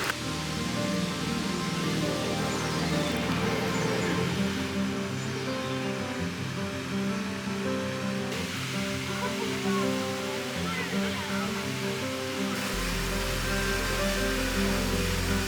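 Minoh Falls waterfall near Osaka, a steady, dense roar of falling water that stays loud and even throughout, with no clear voices.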